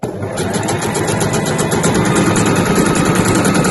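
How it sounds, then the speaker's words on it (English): A sewing machine runs steadily while stitching the base of a fabric weekender bag, a fast, even mechanical whir that is loud and close and keeps going without a break. "I'll just make sure that I'm sewing on top of it and I'm ending at the corner"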